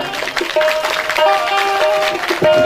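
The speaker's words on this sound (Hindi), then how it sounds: "एक बार जोरदार ताली बजाइएगा।" Audience at a Shiv Mahapuran religious discourse in Naugaon, Madhya Pradesh, claps to welcome the guru onstage, a dense, steady applause filling the hall with music tones ringing under it.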